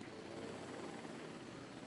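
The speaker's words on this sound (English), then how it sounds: "The way they have the helicopters work here now annoys me." A helicopter in the video game Jurassic World Evolution 2 gives off a steady, dense rotor whir that stays constant and fairly faint throughout, with no talk.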